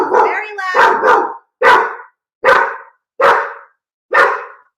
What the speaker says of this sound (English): I have the loudest dog.